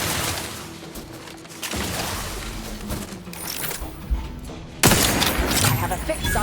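Gunfire in The Outer Worlds 2 video game, repeated loud bursts and shots over a busy combat backdrop, with a sharp louder blast near the end.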